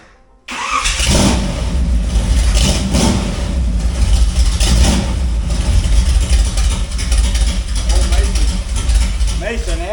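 A Studebaker engine that has sat unstarted for a few weeks cranks briefly and catches, then settles into a loud, steady running rumble close by, with someone talking over it.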